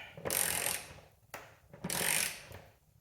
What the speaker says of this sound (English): I'm just gonna wait until my ratchet bottoms out.